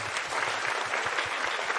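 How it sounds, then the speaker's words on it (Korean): An Easter Sunday church congregation claps in a steady, fairly close burst, with low rhythmic thumps that suggest part of the crowd clapping in time. "박수 한번 해주겠습니다."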